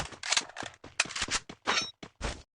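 Gunshots in a video game fired at an enemy, a string of sharp, punchy bursts in uneven rhythm, some rapid and clustered, others spaced with brief silences between.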